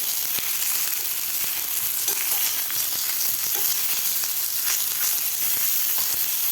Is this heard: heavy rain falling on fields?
no